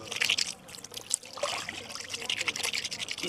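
Water trickles and splashes unevenly into a bucket as boiled mutton pachauni is rubbed and washed by hand, close and fairly soft, with brief pauses and small bursts of dribbling.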